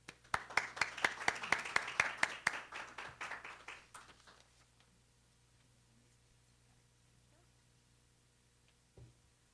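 Scattered clapping from a small audience welcoming a doctor to the podium at a health talk, some dozen distinct claps that thin out and fade after about four seconds into a quiet room, then a faint knock.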